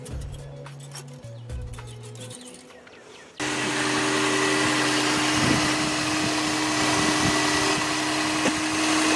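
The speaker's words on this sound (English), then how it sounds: "Start it, let it run for a second, check it when it's warm." A Toyota Echo engine cranks briefly, then catches and settles into a steady, loud idle that runs on evenly.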